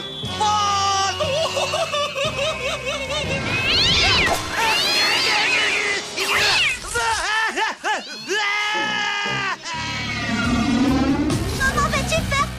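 Cartoon kitten meowing in a French animated series, a run of high, pitched, wavering mews and cries stacked over lively music and voices.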